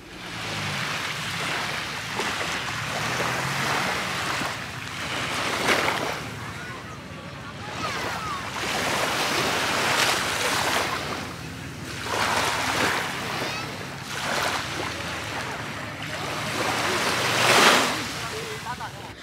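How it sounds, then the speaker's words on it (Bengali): Ocean waves breaking on a beach at sunset, a steady series of surging washes rolling in and receding every few seconds, with wind buffeting the microphone and occasional voices in the background. "সমুদ্রের শব্দ সবার কাছেই ভালো লাগে"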